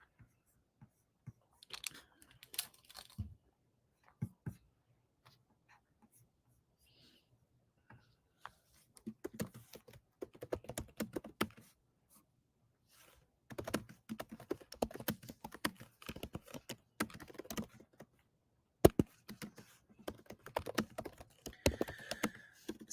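Quiet, close tapping of fingers typing on a phone, irregular bursts of soft clicks separated by pauses, sparse at first and denser toward the end.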